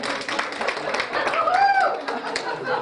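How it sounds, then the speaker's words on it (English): Scattered audience clapping at a stand-up comedy show, a thin patchy burst of claps mixed with murmuring and chatter, fairly close and brief. "Lazy people, clap."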